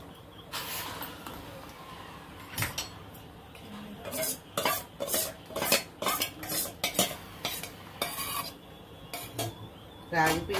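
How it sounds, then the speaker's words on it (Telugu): A spoon stirs ragi flour into a pot of breakfast java cooking with sweet corn and oats, giving close, rhythmic scraping and clinking strokes against the pan that grow steadier toward the end; no talk. "ఇప్పుడు రాగి పిండి కలుపుకుందాం."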